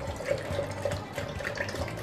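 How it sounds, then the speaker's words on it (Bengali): Cold water is poured for homemade lassi in a short, steady splashing stream, close and moderately loud, with no voices. "এবার আমি নিয়ে নিচ্ছি ঠান্ডা পানি।"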